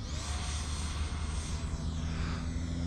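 An E-flite Habu SS 50mm electric ducted-fan RC jet coming in to land, a steady high whine with a slowly falling pitch, close and fairly loud throughout, with no voices.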